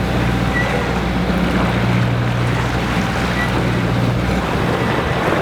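Sailboat motor sailing in light wind of about three knots along the French Riviera near Monaco, with a loud continuous engine drone mixed with rushing water and wind buffeting on the microphone.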